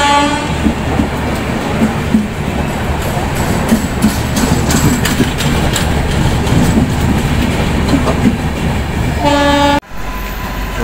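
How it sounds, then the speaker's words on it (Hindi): Bhagat Ki Kothi Humsafar Express pulling in behind a WAP-7 electric locomotive, a loud continuous rumble of rolling coaches with rhythmic clickety-clack and a sustained horn tone, close by throughout before an abrupt cut near the end. "तो फाइनली हमारी ट्रेन आ चुकी है।"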